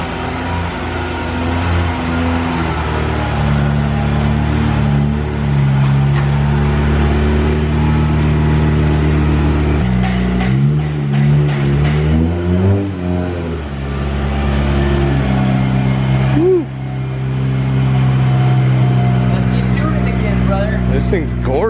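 A supercharged Acura Integra engine idles steadily, then revs up and down in several rises, loud and close, with people talking over it at times.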